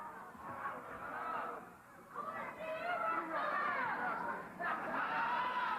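Excited crowd at an old-school UWF wrestling match, a steady roar of chatter and shouting that swells and stays loud throughout, with no clear single voice standing out.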